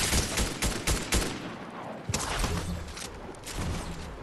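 A Fortnite gun fires loud, rapid multi-bullet bursts, several quick blasts in the first second followed by scattered further shots and game noise.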